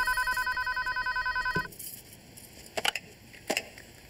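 An old-style telephone bell rings in rapid repeated bursts, then stops abruptly, followed by a few clattering handling noises.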